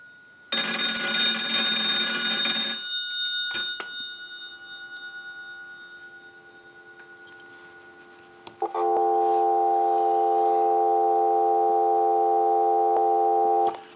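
One loud ring burst from a candlestick rotary telephone's bell fades out, and after a pause a steady, continuous dial tone begins and holds to the end.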